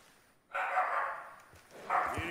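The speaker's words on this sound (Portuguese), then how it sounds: "Participação sonora na live do meu cachorro." A dog barks during a live stream of a Red Dead Redemption 2 game session, a loud burst of yapping that fades and then returns, heard close with no talk over it.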